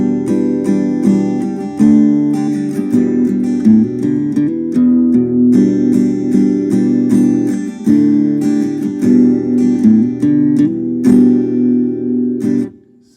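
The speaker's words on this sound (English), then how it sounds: "this is the Boss Acoustic Simulator" Guitar played through the acoustic simulator of a Boss GT1 multi-effects unit: continuous strummed and picked chords ring out bright and close for about thirteen seconds with no talking.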